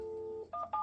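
Telephone keypad dialing tones, a long steady tone followed by two short keypress beeps, clear and close with no talk over them.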